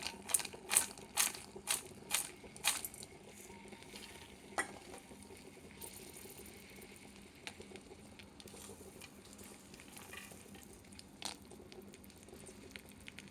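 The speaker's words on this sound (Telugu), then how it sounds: "పల్లీలు కొద్దిగా వేగిన తర్వాత చిట్లుతాయి కదా" Peanuts fry in hot oil with green chilies for mango pulihora, giving faint sizzling and a quick run of sharp crackles and pops at first, then sparser pops over a soft steady fry.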